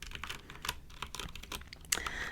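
Mechanical keyboard keys clacking in quick, uneven bursts, close and crisp with a brighter key strike near the end, without any voice.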